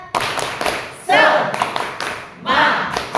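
A group performs the 'tepuk semangat' clap routine at an Indonesian teacher training session, with sharp bursts of clapping in short rhythmic patterns. Voices chant loudly between and over the claps.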